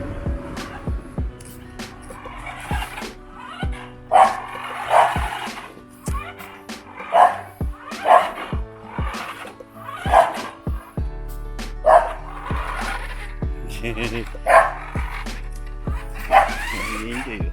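Several dogs bark repeatedly, sharp yaps and woofs in bursts across the clip, with people talking in between and underneath.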